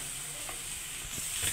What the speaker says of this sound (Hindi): अब हम इनको अच्छी तरह मिक्स कर लेंगे।